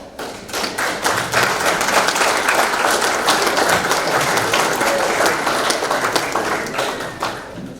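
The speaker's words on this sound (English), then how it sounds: "I'll keep that applause going, give him a cheer." A hall of fame ceremony audience breaks into loud, sustained applause. Dense clapping swells quickly and holds steady before easing slightly at the end.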